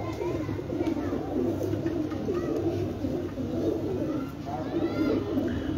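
Pigeons coo on a rooftop in repeated low, throaty rolling calls over a steady background hum, with a voice speaking faintly at times.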